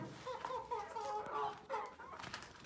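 Brahma chickens cluck softly and busily close by, a quiet string of short calls rising and falling as they peck at water spinach.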